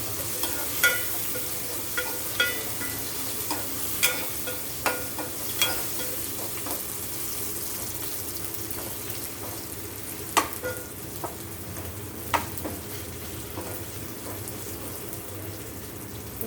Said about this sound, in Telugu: టమాటా ముక్కలు కూడా ఫ్రై అయినాయి.